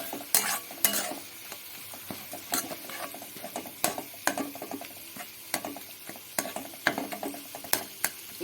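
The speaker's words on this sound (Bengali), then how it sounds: "এই তেলের মধ্যে আমি, তেলটা গরম হয়ে গেছে, এই বাটাটা দিয়ে দেবো।" Potato peel paste is stirred and fried in hot oil, sharp repeated scraping clicks of a spatula against the pan over a soft sizzle, irregular and close throughout.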